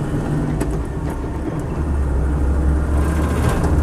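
Land Rover 90 V8 engine running steadily as the throttle is released sharply, a continuous low vehicle drone with rumbling, close and fairly loud throughout, no talking.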